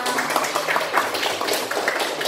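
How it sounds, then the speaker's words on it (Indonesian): Students in a classroom clap for their class, a brisk scattered round of applause from a small group, steady and moderately loud for a couple of seconds. "tepuk tangan dong buat kalian semuanya"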